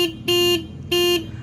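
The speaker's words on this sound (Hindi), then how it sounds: "तो ये इसका हॉर्न का आवाज़ आ जाता है।" Two long, loud, steady blasts sound from the horn of a matte black 2024 Hero Harley X440 motorcycle, alone and close with a short gap between them.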